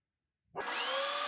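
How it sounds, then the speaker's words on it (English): A wood planer starts feeding stock for an end grain cutting board after a short silence, jumping into a loud, sustained, steady whining roar of blades cutting across the boards. "Now I send everything through the planer, and now I have two flat faces"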